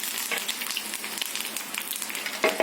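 Curry leaves and dried chillies sizzle in hot oil in a pan for tempering, a steady crackling fizz with small pops, fairly close and alone, with a louder burst of spitting near the end.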